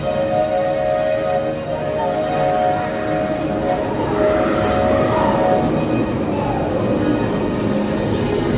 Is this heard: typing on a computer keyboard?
no